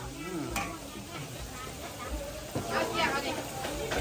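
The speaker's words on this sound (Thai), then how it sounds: "นี่ทอดมากินกับข้าวเหนียวอร่อยมากเนี่ย" Pork and fish frying in oil give a continuous close sizzle and crackle that grows a little louder toward the end, with a voice speaking over it at times.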